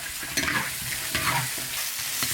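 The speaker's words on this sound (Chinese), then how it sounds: "把葱姜香料给它炒香，再挖一勺豆瓣酱进去，继续给它翻炒" Scallion, ginger, spices and a spoonful of bean paste stir-fried in a wok, heard as a brief close sizzle with scraping spatula strokes sweeping through it.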